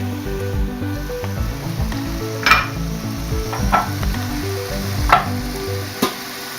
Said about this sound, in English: Okay, now I'm going to start adding the sausage.